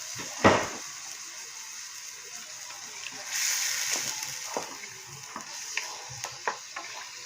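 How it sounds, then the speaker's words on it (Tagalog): Water poured into a hot pot of pork rib caldereta with its marinade, giving a hissing, bubbling sizzle that swells for a few seconds among scattered clinks and stirring knocks, with no talking. "Tapos maglalagay tayo ng tubig."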